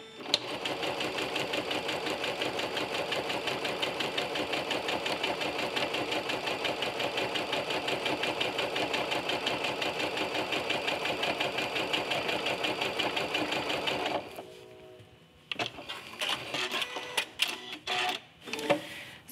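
A sewing machine fitted with a walking foot stitches a quilt in a steady, continuous mechanical whir for most of the time, then stops and gives way to scattered handling clatter and rustling of fabric.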